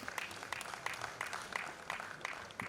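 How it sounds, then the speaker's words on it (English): A seated audience gives steady, fairly faint applause after a panel session on studying abroad, heard as a continuous patter of many hands clapping at a distance. "Please give them a big round of applause"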